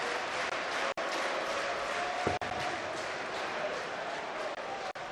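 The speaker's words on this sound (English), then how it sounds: "The German crowd are cheering the Austrian on." A German crowd at a darts Grand Prix quarter-final cheers and applauds an Austrian player, a sustained roar of clapping and voices filling the arena with a few brief dips.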